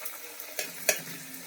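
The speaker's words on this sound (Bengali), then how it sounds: "লাস্ট একটা পরোটা ভাজবো, মানে ছাঁকা তেলে" Paratha deep-frying in hot oil, with a steady soft sizzle and a few sharp crackles and pops standing out briefly.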